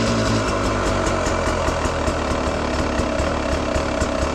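A Beta 300 motorcycle engine with a Smart Carb, tuned richer, idles steadily up close, with a rhythmic low pulsing that stays loud and even throughout, no voices.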